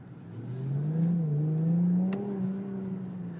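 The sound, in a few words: Infiniti Q60 Red Sport 400 car engine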